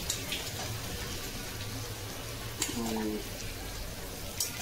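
Cumin seeds and turmeric crackling in hot oil in a home kitchen, a soft continuous sizzle with occasional sharp pops, a brief voice murmuring in the background.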